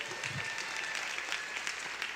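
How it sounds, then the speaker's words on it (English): A conference audience applauding in a large hall, a steady wash of many hands clapping at moderate distance, fairly soft and continuous for the whole moment. "I want everyone to give a big round of applause to Xero"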